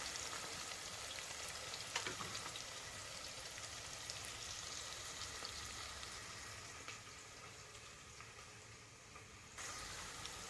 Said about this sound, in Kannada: ನೋಡಿರಿ ಈ ಥರ ಎಲ್ಲ ಫ್ರೈ ಮಾಡ್ಕೊಂಬಿಡ್ಬೇಕು.